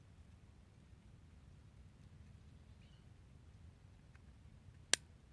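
A Taurus PT111 G2 pistol's trigger resets with a single sharp, close click that stands out once against quiet background hiss.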